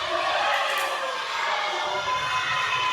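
A packed crowd at a ProSouth Wrestling event roars and cheers in a steady, dense wash of voices with no break, filling the hall.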